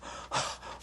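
A single deep, sharp intake of breath taken by a man during a church sermon, close and brief, rising out of quiet room tone.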